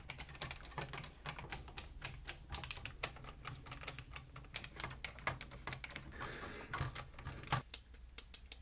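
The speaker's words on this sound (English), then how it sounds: "But all buttons are clicking" Buttons on a Radio Shack device click in quick irregular runs, sharp close taps one after another at low volume, with no voices.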